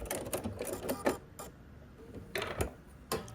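Quiet, close sewing machine stitching across a flying geese quilt block, heard as light rapid ticking bursts that start and stop with short pauses between runs.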